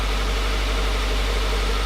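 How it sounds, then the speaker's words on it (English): A Subaru WRX with a catless J-pipe idling, a steady low rumbling drone with constant vibration, close and continuous with no talk. "So we're gonna go on a test drive, see how the car sounds."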